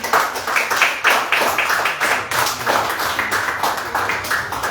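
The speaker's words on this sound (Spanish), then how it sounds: "¿Quién le puede dar un aplauso al Señor" A church congregation claps for the Lord during a Spanish-language sermon, a steady run of sharp, fairly loud handclaps filling the space, with faint voices mixed in.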